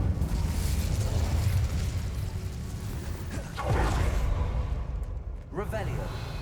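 In Hogwarts Legacy, a cast Incendio fire spell bursts out with a fiery whoosh and crackling flare over a steady game rumble, followed by a second burst; a voice speaks over the sound.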